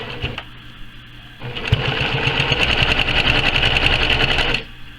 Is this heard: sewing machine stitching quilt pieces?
yes